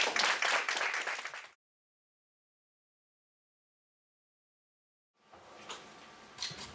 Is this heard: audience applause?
yes